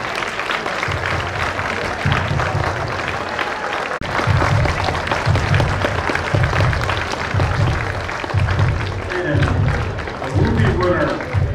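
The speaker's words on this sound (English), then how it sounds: "Big round of applause, please, for the winner." Applause for a tournament winner at the Berman Tournament awards, sustained clapping from a crowd under a loud voice and music-like tones, with rhythmic low thumps running throughout.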